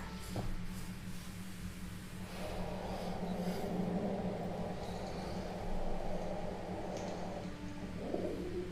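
Low, soft pigeon coos repeat under a steady background rumble, close but muted, with a faint traffic-like hum throughout.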